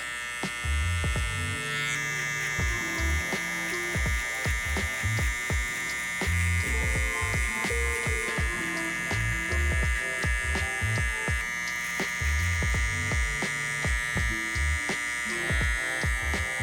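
Electric hair clippers buzz steadily and continuously while cutting a burst fade and setting beard guidelines in a barbershop, with a dense rhythmic texture of music-like tonal layers running throughout.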